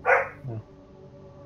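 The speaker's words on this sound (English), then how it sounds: "Sorry, that's my dog." A single dog bark bursts out loud and close, followed by a lower, shorter yelp, then fades into quiet room tone.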